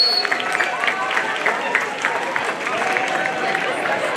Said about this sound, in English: So can you guys at least give him some round of applause and cheers?